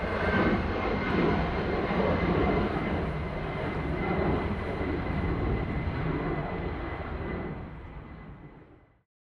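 A jet airliner at Manchester Airport roars past during golden hour, a broad steady rumble and hiss that holds loud for several seconds before fading out. No voices are heard.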